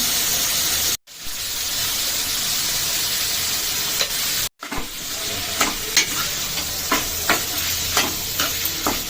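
Cauliflower sizzles and fries in a pan with salt and chili, a dense continuous hiss broken by two brief cuts, followed by sharp scraping clicks as it is stirred, close and steady with no voices.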